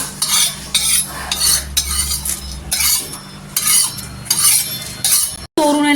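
Roasted homemade spice mix with bay leaves and broken nutmeg being scraped and moved onto a plate, with close metal spoon-and-pan clinks and scraping in bursts, alone without talk.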